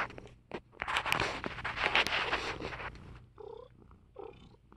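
An orange cat purrs up close with a steady low rumbling motor, loudest early on, then softer bursts as it breathes, with faint rustling around it.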